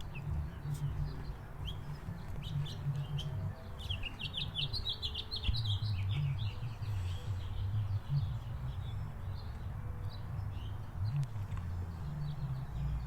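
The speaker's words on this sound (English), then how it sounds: "The sun is going down, the birds distantly chirping, not in our faces much anymore." Birds chirp faintly and far off at sunset outdoors, brief high tweets scattered over a steady low rumble of light breeze, with no talking.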